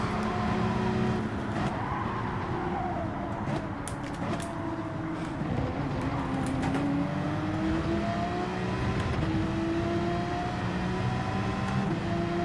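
Porsche race car in Gran Turismo 7 on hard tires, held in second gear, its engine droning and rising in pitch under acceleration, with nearby cars' engines and tire noise layered throughout.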